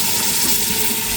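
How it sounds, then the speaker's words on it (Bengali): A little water is poured into masala frying in a pot for a village-style country chicken khichuri, giving a brief, loud, steady rushing hiss up close. "এবার মশলাটা কষানোর জন্য সামান্য পরিমাণ জল দেবো।"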